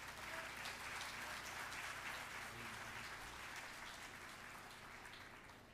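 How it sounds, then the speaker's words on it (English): Faint, distant audience applause at a college celebration event, a steady wash of many hands clapping that holds for several seconds and slowly fades. "Round of applause."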